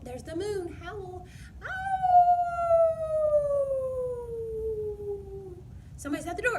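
A human voice imitates a dog howling at the moon: one long, sustained howl that slowly falls in pitch over several seconds, loud and close, with brief talk just before and after.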